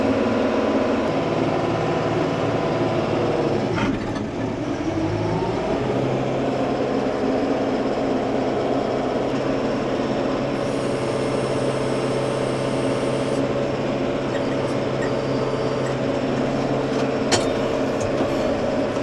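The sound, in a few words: tractor throttling up with PTO engaged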